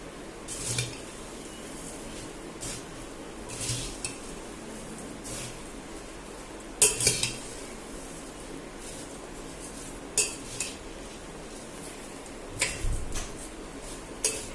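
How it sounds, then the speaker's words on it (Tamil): A spoon clinks against a bowl while bhel puri with lemon is mixed, producing sparse metallic taps and scrapes spaced every few seconds, fairly close but soft, with quiet pauses between them. "நெக்ஸ்ட் கரண்டி வச்சு ஃபுல்லாக மிக்ஸ் பண்ணிடணும்."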